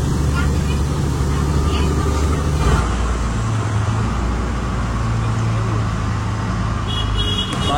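Local bus driving along a road in Bangladesh, with a steady broadband engine and road rumble running throughout, close and loud, and a short horn toot near the start; a voice can be heard talking faintly under the noise.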